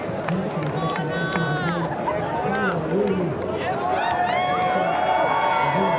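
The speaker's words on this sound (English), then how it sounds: "The Red Bull Athlete Zone is cheering, hitting the chairs as he walks up." Crowd in the athlete zone at a surf contest in J-Bay cheering and banging on chairs, a loud dense roar of voices and whistles with clattering hits, close and continuous.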